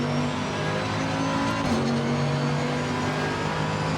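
Race car engine in Assetto Corsa Competizione at Imola, a steady, loud engine drone with a brief pitch dip and recovery as the car shifts while running among other cars.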